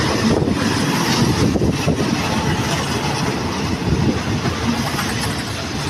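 Thai railway rapid train 167, hauled by diesel locomotive 4130 with a CAT engine, accelerates away: a loud, close, continuous engine roar with wind buffeting on the microphone.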